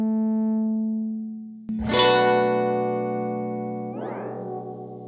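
An electric guitar runs through a software tape echo from the Arturia FX Collection. A sustained note gives way to a struck chord that swells into long, decaying repeats, and the pitch warbles and bends as the repeat rate and intensity are shifted.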